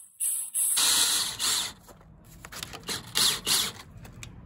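A power drill drives fasteners to attach lath to a wall during garage wall construction for stucco, heard as several short, close bursts of whirring separated by quieter gaps.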